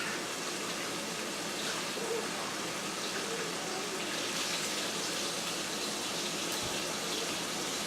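Tap water pours into a kitchen sink as spinach is rinsed, a steady, full gush that stays close and unbroken throughout, with no talking.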